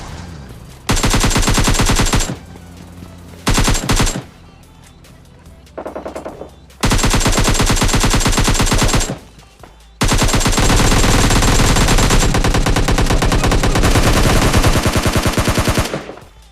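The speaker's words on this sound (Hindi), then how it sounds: "बंदा सामने आया, मैं एकेएम से फायर किया" AKM rifle fire in PUBG Mobile Lite, loud rapid automatic bursts of several seconds each separated by short pauses, with a long sustained spray toward the end and no voice.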